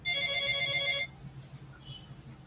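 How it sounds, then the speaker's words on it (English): An office telephone rings nearby in a steady electronic trill that lasts about a second and then stops, leaving a quiet room with a faint brief chirp afterward. "Please come for your phone. Office phone."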